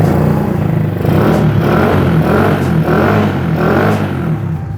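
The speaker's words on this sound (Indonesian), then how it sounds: "Jadi ya mesinnya cuma 100 cc, digeber pun dia nggak bersuara yang sampai berisik." A 100 cc Streetcub motorcycle with a rebuilt engine and a quiet exhaust revving repeatedly, the engine note rising and falling in several even pulses, close and fairly loud, with a mechanical clatter beneath.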